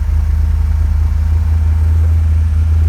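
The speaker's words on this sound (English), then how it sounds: "You hear that steady rumble? That already sounds so much better." A 1980 Corvette engine idles alone with a steady, loud low rumble, its even firing pulses holding constant throughout.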